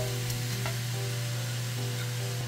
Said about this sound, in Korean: 돼지고기 넣고서 달달달 볶아주세요